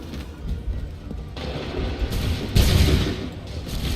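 Musket volley gunfire rings out in Assassin's Creed III, loud overlapping bursts of shots with booming blasts, a dense fusillade that swells sharply partway through and keeps rolling.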